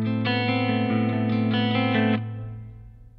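A Marshall JVM410H tube guitar amp on its clean channel plays sustained chords drenched in built-in reverb, strummed in a steady rhythm for about two seconds before the strings stop and a smooth reverb tail fades away alone.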